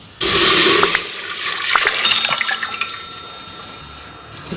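Soaked toor dal and its water are poured into a pressure cooker in one loud sudden splash and rushing gush that slowly eases into trickling and faint drips.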